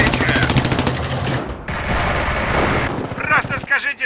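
Rapid machine-gun and rifle fire from a Company of Heroes battle on the Soviet side at Stalingrad crackles loud and dense for several seconds with distant explosions, while shouted soldier voices sound under the gunfire.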